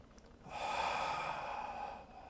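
A deep, slow exhale during a seated yoga twist, one long breath that swells and fades over about two seconds, close and fairly soft, with no talk.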